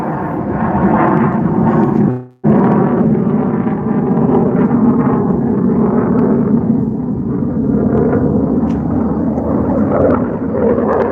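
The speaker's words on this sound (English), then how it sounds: "Yeah, jet." A jet aircraft passing overhead on a morning run makes a sustained, loud roar that drops out briefly near the start, then continues steadily with no voices.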